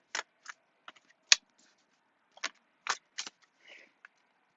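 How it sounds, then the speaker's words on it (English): Oversized oracle cards being shuffled by hand, a sparse series of crisp, close riffles and slaps in separate bursts with quiet gaps between them, no speech. "And it wouldn't be me shuffling oracle cards unless I complained about the size of them."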